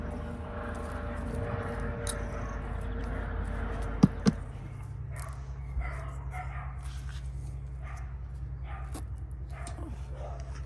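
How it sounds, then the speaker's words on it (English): Dogs barking in a garden in the UK, short scattered barks and yelps at a moderate distance over a steady low rumble of a helicopter overhead, with a couple of sharp louder bursts near the middle. "you have the dogs going crazy"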